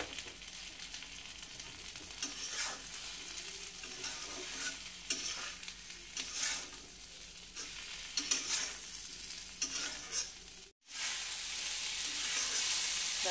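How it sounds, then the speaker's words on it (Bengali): Neem leaves and eggplant pieces are stirred in a frying pan of hot oil, a close, steady sizzle broken by repeated scraping stirs, with no talking. "দিয়ে খুব সাবধানে একটু সময় নিয়ে নাড়তে হবে।"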